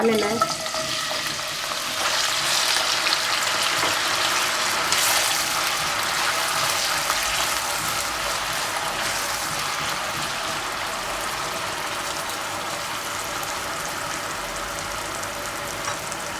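Potatoes added to hot oil in a pan for a Spanish omelette: a loud, steady frying sizzle close by, starting with a brief clatter and then hissing evenly throughout, with a few spoken words near the start.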